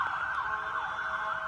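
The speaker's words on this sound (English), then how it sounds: "officers with their lights and sirens trying to get through traffic" Police sirens wail in a steady, rising and falling cycle as officers try to push through traffic, moderately distant and heard alone for a brief stretch.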